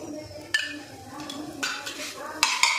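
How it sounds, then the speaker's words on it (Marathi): A roll roasts in a pan with a little ghee, giving a soft sizzle under repeated sharp clinks and scrapes of a spoon against the pan, close and uneven. "याला असं पुन्हा पण भाजून घ्या. याच्यावर पुन्हा अगदी थोडं तूप घालून घ्यायचं."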